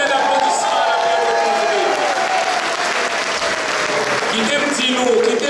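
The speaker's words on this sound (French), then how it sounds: "on peut mettre l'applaudissement à la Pierre" Audience at a Jovenel Moïse event in Montreal applauding in a sustained, loud burst of clapping, with crowd noise, scattered cheers and voices mixed in.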